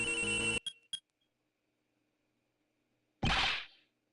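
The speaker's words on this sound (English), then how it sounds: "That's your cell phone. Huh? Mine is also ringing." A cell phone in the Ace Attorney Investigations 2 game rings in a short electronic burst with two quick trailing blips, followed after a pause by a loud swooshing whoosh.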